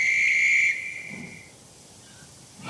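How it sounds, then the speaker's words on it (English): A railway guard's whistle gives a shrill, steady blast for under a second, then fades into quiet background. "At last Gordon heard the whistle."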